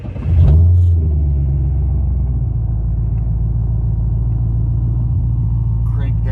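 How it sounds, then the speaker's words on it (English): A 2010 Corvette Grand Sport race car with a built LS3 V8 fires up from cold, a loud crank and brief flare followed by a deep, steady rumbling idle close by. "This is a cold start on my 2010 Grand Sport little old racing car with a built"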